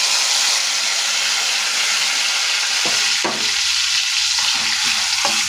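Ingredients for bottle gourd chutney, including garlic, fry in a pan with a loud, steady, close sizzle, and stirring knocks come in toward the end without any talk.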